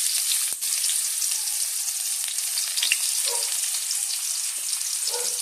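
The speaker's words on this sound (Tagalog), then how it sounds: "Lagay naman natin ang ating sibuyas." Two onions hit a hot pan and sizzle loudly, with a steady close crackle and hiss and a few small pops and stirring scrapes.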